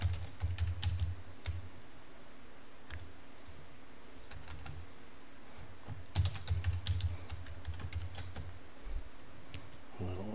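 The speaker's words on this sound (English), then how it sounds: "Oh, what's going on with my keyboard here?" Computer keyboard typing in a quiet room, with bursts of rapid key clicks near the start and again around the middle, then scattered individual keystrokes over a low steady hum.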